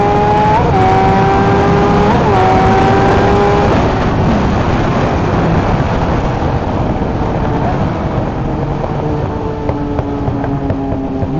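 A motorcycle engine with a freshly flashed ECU revs repeatedly up close, loud rising and falling pulls with a sharp blip near the start and sustained high revving throughout.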